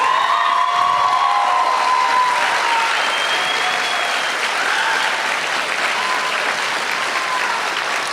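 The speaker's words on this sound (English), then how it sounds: "So let's give a round of applause for Tina." Loud, sustained applause from a large crowd at a high school graduation for a retiring teacher, with scattered cheers and whoops mixed in, continuous and steady throughout.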